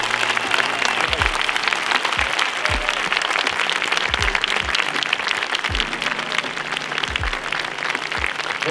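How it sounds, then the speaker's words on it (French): Thunderous applause from a theatre audience as a guest, the runner Clément Defresne, walks onto the stage, dense steady clapping filling the hall for several seconds without a break. "Je vais quand même lui réserver un tonnerre d'applaudissements"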